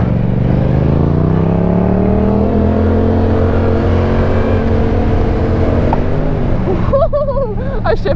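A 2022 Yamaha R7 sport bike accelerating hard, a loud close engine note climbing steadily in pitch through the gear, then a brief drop and shift with the revs rising again at the end.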